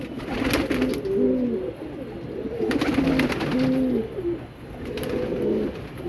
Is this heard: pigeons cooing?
yes